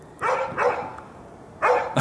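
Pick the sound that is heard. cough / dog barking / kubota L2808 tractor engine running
dog barking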